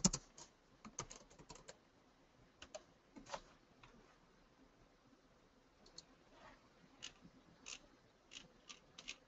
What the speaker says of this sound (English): Let's see if I can type in airlines.